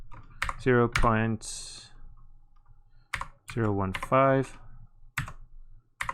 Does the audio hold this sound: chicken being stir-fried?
no